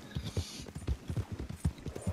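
Horse hooves clip-clopping at a steady trotting rhythm in Red Dead Redemption 2, close and distinct, repeating beats with no speech over them.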